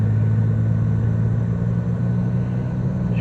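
A car engine's low, steady rumble heard from inside the cabin while driving, with a constant drone and no one speaking.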